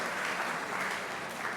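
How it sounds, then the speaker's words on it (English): Steady audience applause fills a convention or speaking arena, a dense even wash of many hands clapping at constant loudness with no pauses. "There's an applause."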